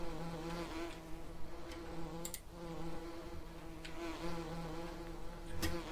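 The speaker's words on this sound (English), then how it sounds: "We get the lovely bee sound and a little animation of bees flying around us" Bees buzz around a beehive in the farming video game Farming Simulator 19, a steady, close droning hum with swelling waves of wingbeats and no talking.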